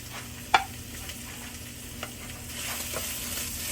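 Chicken pieces fry for pancit bihon, giving a faint, steady sizzle in a pan. One sharp clack of a utensil sounds near the start, and a few softer taps follow.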